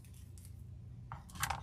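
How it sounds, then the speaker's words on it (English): Scissors snipping off excess ribbon while making an XL patriotic wreath, two quick close cuts in a quiet room, the second sharper and louder. "Cut the excess off"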